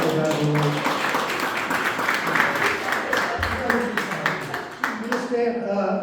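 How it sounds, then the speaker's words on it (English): An audience at a live show applauds with scattered claps while a person keeps talking over it, the clapping building and then tapering off under the voice. "How about a big round of applause for Beverly?"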